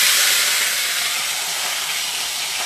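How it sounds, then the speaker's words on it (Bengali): Fish rubbed with turmeric and chili sliding into hot oil in a kitchen pan, a loud, close, dense hissing sizzle that stays strong and even throughout, with no talk. "মাছ ছাড়ি দিয়ে একটা চেষ্টা করি,"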